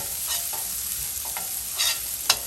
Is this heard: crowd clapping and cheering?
no